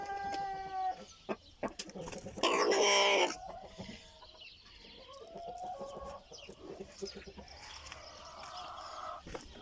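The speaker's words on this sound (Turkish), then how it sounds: "Burada da benim çalışma yaptığım Tavuklar var." Hens cluck and squawk in a coop, with one loud burst of flapping or squawking partway through and softer clucking continuing after.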